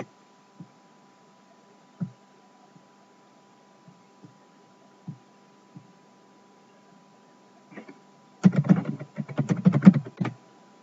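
Typing on a computer keyboard: a few sparse, isolated key taps over a steady electrical hum, then a quick, denser burst of keystrokes near the end, close and fairly quiet.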